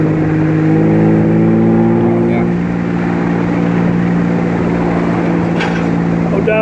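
A 1953 Jaguar XK 120 engine running steadily while the car drives along a cold road on old bias-ply tires, a loud continuous hum with mild rises in pitch, with people talking over it.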